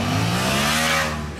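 A Yamaha MT-07 two-cylinder motorcycle engine revs hard and close, a loud continuous throaty drone that holds steady for over a second, then eases slightly at the end.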